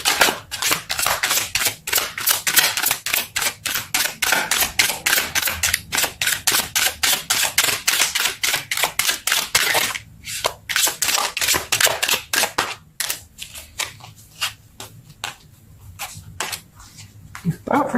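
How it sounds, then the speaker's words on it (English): Tarot cards are pulled and flipped in a long run of sharp, evenly spaced snaps and flicks, loud and close, thinning to sparser clicks near the end. "Let's pull some more cards."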